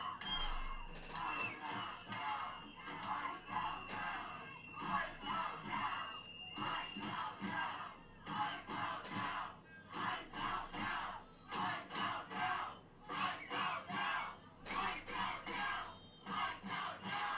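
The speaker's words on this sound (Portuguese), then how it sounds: "manifestantes forçam a entrada do Tribunal Federal, gritando ICE fora agora e exigindo justiça" Crowd of protesters forcing their way into a federal courthouse, chanting a repeated slogan against immigration enforcement in loud rhythmic bursts, with a dense crowd roar continuing between the chants.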